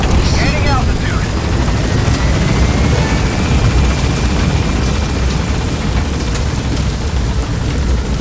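An extraction helicopter lifts off and departs in the video game Metal Gear Solid V: The Phantom Pain, a loud, steady rotor and engine roar that fills the whole stretch without a break.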